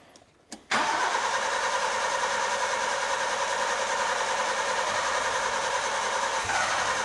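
A Daihatsu 4WD Japanese import, parked for six years, cranks and catches after a brief attempt, then runs at a steady, loud idle close by for several seconds.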